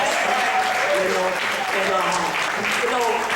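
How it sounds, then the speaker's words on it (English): An audience at an event in New Orleans claps steadily and densely throughout, a loud wash of applause with faint voices mixed in. "everybody stand up and give her a hand"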